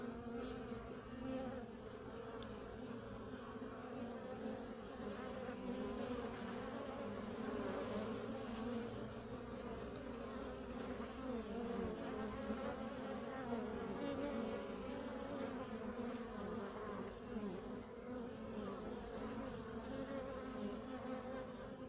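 Honey bees, one with slightly chewed wings, buzz and fly close by, a continuous droning hum that wavers in pitch and loudness as the insects circle near the microphone.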